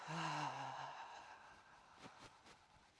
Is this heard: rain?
no